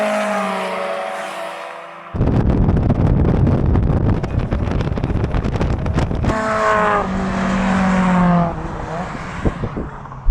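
Modified Mazda MX-5 Roadsters, a supercharged and a turbocharged car, drag racing: an engine revs up, then a loud wind-buffeted full-throttle roar passes close by, followed by a second car's rising engine note and gear changes.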